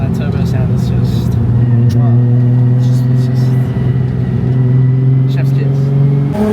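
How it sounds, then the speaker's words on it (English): Turbocharged car engine revving hard, a loud sustained roar with steady harmonic drone and brief pitch shifts, heard close up with people talking over it. "that turbo sound is just"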